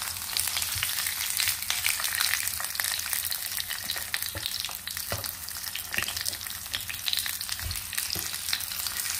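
Four burger patties fry steadily in a pan with a loud, constant hiss and crackle, scattered pops breaking through the dense sizzle throughout.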